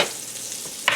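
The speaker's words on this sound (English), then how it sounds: "things are starting to sizzle here" Food in a skillet sizzles steadily and close by, with a short scraping stir near the end.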